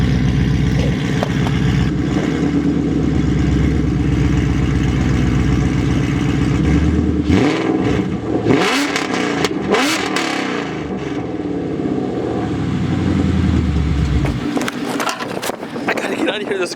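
Car with a Ford Coyote V8 swap heard from behind at the exhaust, idling with a deep rumble, then a couple of sharp revs that rise and fall before settling back to a loud, steady idle; a voice talks briefly.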